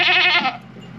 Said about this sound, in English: She's our first ever goat.